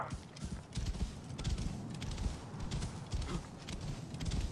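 A horse in the game Assassin's Creed Origins clip-clops along with steady, rhythmic hoofbeats close by, blended with game ambience and a faint whinny-like tone.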